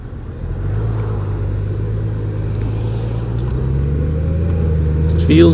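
A 2018 Honda Goldwing DCT motorcycle rides along with a steady low engine drone that rises gradually in pitch as it shifts through the gears, close and fairly loud with wind noise.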